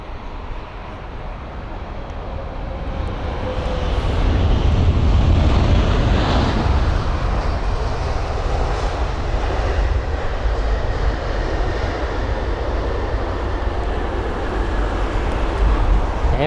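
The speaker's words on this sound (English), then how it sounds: "This aircraft arriving from Phoenix on its 9-hour and 42-minute long journey" Boeing 777-200 airliner arriving at London Heathrow, a steady broadband roar with heavy wind buffeting that swells slightly midway and holds loud throughout.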